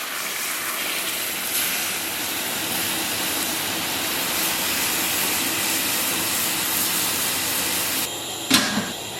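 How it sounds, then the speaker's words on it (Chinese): Meat broth poured into a pan of beef with sauce produces a loud, steady hissing sizzle that holds evenly for most of the time, ending in a brief clatter and a sharp burst near the close. "咱们把煮肉的原汤给它倒里边"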